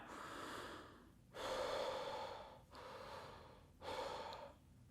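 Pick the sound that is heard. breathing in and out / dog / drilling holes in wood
breathing in and out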